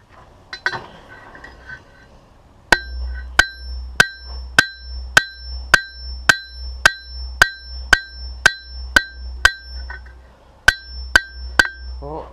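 A blacksmith hammers hot metal on an anvil to flatten the tip of a piece into a leaf shape: a long run of loud, evenly spaced ringing blows with a bright metallic clang, briefly pausing before a few more strikes.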